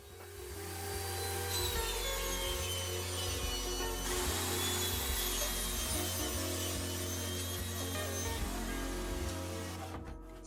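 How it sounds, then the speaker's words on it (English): A wooden fence picket being ripped into thin strips with a power saw: a loud, steady motor drone with a rhythmic pulsing cut tone running throughout, ending as the saw winds down. "The first thing I need to do is break down the fence picket into thinner strips."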